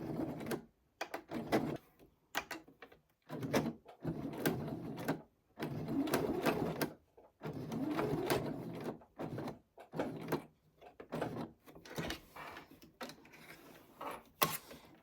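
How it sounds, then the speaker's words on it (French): Sewing machine stitching through a thick bag strap with raised thread tension, running in short irregular bursts of rapid mechanical whirring separated by pauses, close and fairly quiet. "J'augmente un peu la tension de mon fil parce que j'ai pas mal d'épaisseur à passer."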